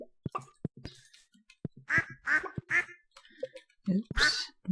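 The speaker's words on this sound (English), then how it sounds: "We have ducks" Ducks quack repeatedly in a farming video game, a run of loud, close nasal calls in quick bursts with short gaps between them, standing alone without talk.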